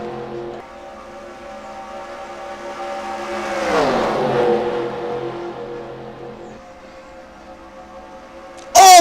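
Race cars in NASCAR Racing 2003 at a Geico 500 Cup Series race roar past as a pack, steady engine drone rising to a loud passing sweep near the middle, then settling, with a sharp burst at the very end.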